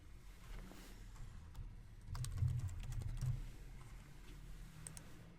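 Someone types a document name on a computer keyboard in a quiet office setting: soft, rapid key clicks come in a short burst mid-clip, with a few scattered taps before and after.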